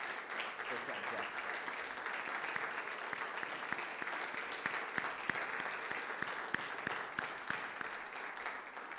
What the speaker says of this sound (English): Let's give a rousing applause for Studio 462 in Minneapolis, Minnesota.